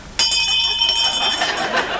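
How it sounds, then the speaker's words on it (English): A bell is struck once on the British comedy TV show The 11 O'Clock Show, giving a clear metallic ring that lingers and slowly fades over a soft murmur of voices and audience chatter. "we want you to ring the bell for Nicky Campbell"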